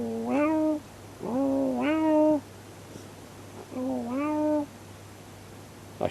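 A person imitates a cat, giving three drawn-out meows with pauses between them, close and fairly loud over a faint background hum.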